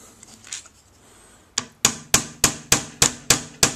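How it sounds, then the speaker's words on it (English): A silver ring blank is struck with a hammer on a mandrel, eight sharp metallic taps in a steady, even rhythm after a brief quieter stretch, close and clear with no talking. "I'm just going to hammer on top of it to ovalize it more."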